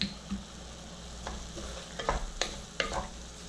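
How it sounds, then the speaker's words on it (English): A tribal vegetable dish seasoned with salt and crushed red chili pepper sizzles steadily in a pan, with a few sharp scraping stirs near the end, close and without talk. "Give a quick saute to it."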